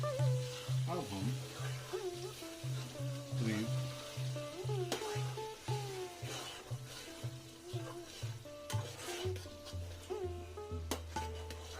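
Awadhi murgh masala with onion paste frying on a medium flame, a continuous close sizzle with a rhythmic low hum pulsing underneath, a voice speaking intermittently over it.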